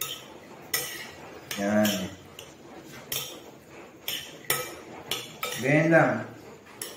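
A spoon clinks and scrapes against a bowl while tuna kinilaw with ginger is mixed, close and repetitive, with a voice speaking briefly over the stirring.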